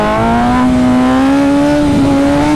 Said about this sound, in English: second gear, I'm just gonna roll into the throttle.